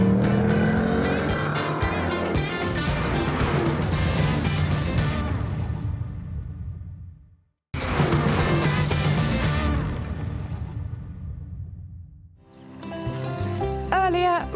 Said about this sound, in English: One of the best things about this car is the noise.